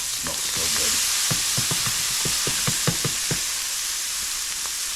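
Scallops sear in a hot pan with a steady, loud broadband sizzle, punctuated by a series of sharp pops and crackles that cluster in the middle of the run; no voices are present.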